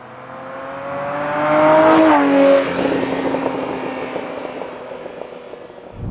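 Ferrari Testarossa flat-12 with an aftermarket tubular exhaust, loud and close as it revs up through a rising howl, then drops back to a rough, burbling drone.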